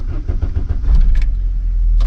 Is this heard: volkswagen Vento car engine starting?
yes